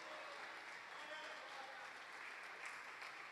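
Sustained standing applause from a church congregation fills the whole stretch, steady and dense, with voices faintly mixed in.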